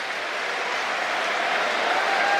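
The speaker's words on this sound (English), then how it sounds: "So Tamua Manu gets a rousing round of applause." Stadium crowd at a 2023 Rugby World Cup match between Japan and Samoa, applauding steadily as an injured player limps off; a broad, distant wash of clapping and crowd noise held at even loudness.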